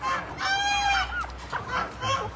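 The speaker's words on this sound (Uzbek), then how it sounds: "Mana haligi amerikanskiy tovuq deylardi." Chickens of an American breed at a poultry show give a run of loud, harmonic squawking calls, several overlapping and rising and falling, close by over a steady crowd murmur.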